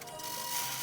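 A sewing machine stitches through a thick junction of a feed bag tote, a steady close mechanical whir with a faint rhythmic clatter, alone without talk.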